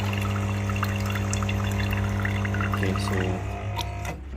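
Water flushing from the group head of a Lelit Mara X E61 heat-exchanger espresso machine, a steady pour over the machine's constant pump hum, fading near the end.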